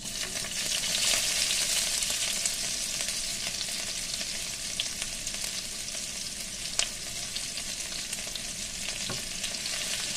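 Onion fries in oil for a mutton masala gravy, producing an even, close, continuous sizzling hiss that holds for the whole stretch, broken by only a couple of faint clicks, with no talking.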